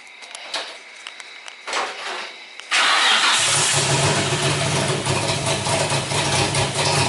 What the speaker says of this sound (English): Now we're gonna go ahead and turn the car on.